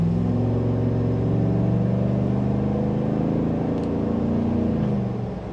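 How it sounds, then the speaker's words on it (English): A 2025 GMC Sierra AT4X truck in sport mode accelerates gently with a steady mid-pitched engine drone heard from inside the cabin, rising slightly and then easing off near the end, with no talk. "Here's a small acceleration."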